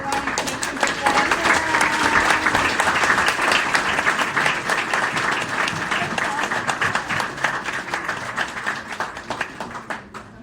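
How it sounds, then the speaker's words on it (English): Sustained audience applause after group presentations at an electoral event in a convention hall, dense, loud clapping lasting about ten seconds and slowly thinning toward the end. "A big round of applause for everyone."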